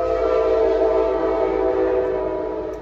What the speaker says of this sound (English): It seems like there's a train coming.